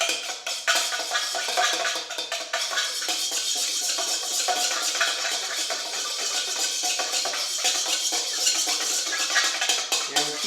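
A fork scrapes and clinks steadily around a bowl as it stirs coarse sea salt into water, a continuous gritty rasp with small metallic ticks that carries on without pause.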